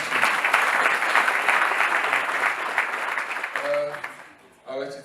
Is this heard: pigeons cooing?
no